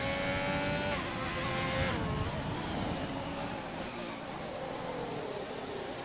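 A racing game car engine drones steadily with harmonic whine, sounding slightly rough and uneven like a rally car, with faint crowd or track noise and commentary-like voice in the background.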